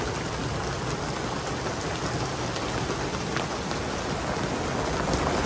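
Steady downpour mixed with hail strikes a sailboat in a storm, a continuous close hiss with scattered sharper ticks of stones and drops hitting the hull and deck.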